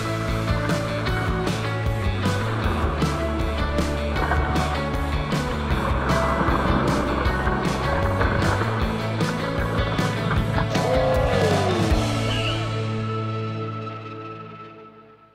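Hot Wheels 1/64 die-cast toy cars, a Twin Mill Gen E and a 69 Copa Camaro, roll down a plastic track with a steady rattling rumble that fades out at the end.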